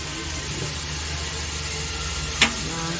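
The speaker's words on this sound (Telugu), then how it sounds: "మసాలా ప్యాకెట్ వేసిన తర్వాత కొద్దిగా కలిపేసుకోవాలి." Maggi noodles being stirred with masala in a pan: a steady hissing sizzle and low rumble throughout, with a brief scrape of the utensil near the end and no talking.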